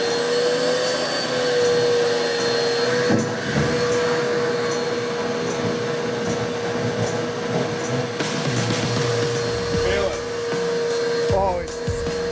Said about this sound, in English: We've actually proven that this shop vac is indestructible.